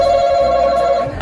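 A quiz buzzer that rings like a telephone gives one loud, continuous electronic ring, close and steady, cut off at the end by a brief noise.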